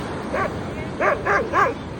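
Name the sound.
dog barking at a beach shack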